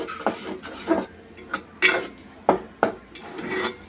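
A spoon or spatula stirs roasted rice flour in a pan over medium-high heat while coconut sweets are being made. It gives short, close scraping and clinking strokes in an irregular rhythm.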